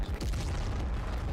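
Heavy orbital cannon blast from Warhammer 40k lore, a loud, deep booming roar that hits almost at once and stays dense and sustained, rumbling without pause for over a second.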